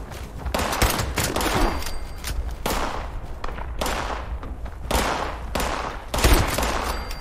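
Rapid bursts of gunfire from the video game Fallout 76, played in its PS4 beta, crackle as repeated volleys and single shots throughout, loud and dense over a constant game backdrop.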